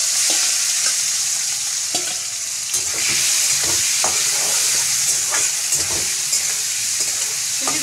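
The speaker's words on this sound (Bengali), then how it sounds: "আর আমি এই পাশে এই যে তেল দিয়ে আমি এই যে চিংড়িটা ভেজে নেব" Shrimp fry in hot oil with a loud, continuous sizzle, punctuated by scraping stirs of a spatula at irregular intervals, close up and without talk.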